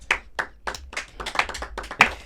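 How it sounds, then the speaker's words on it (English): A few people clap hands during a casual talk-show conversation. The claps are scattered and irregular, a handful of short close bursts with quiet gaps between them. "Clap hands."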